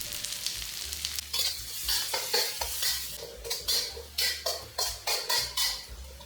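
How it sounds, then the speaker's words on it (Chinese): Dried shrimp stir-fried with ginger, garlic and small chilies, a wok spatula scraping and tossing in rhythmic strokes over a steady close sizzle, the scrapes growing quicker and more regular toward the end. "虾米爆香后加入姜、蒜和小辣椒，然后继续。"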